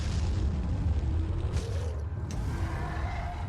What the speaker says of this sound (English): Have some grenades.